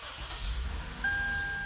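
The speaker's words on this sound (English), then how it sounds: "If I turn the car on" A Lexus car engine starts with a short low rumble that settles into a steady idle, while a thin electronic tone rings out at the same moment.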